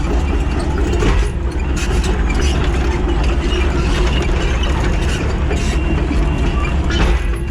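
Worn, badly deteriorated undercarriage of an SY-80 excavator running, a loud, steady mechanical clatter and grinding with continuous rattling over a low engine rumble throughout.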